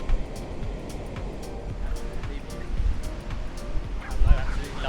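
Steady, rough surf washes onto Cabarita Beach, a continuous roar of breaking waves with gusts of wind buffeting the microphone.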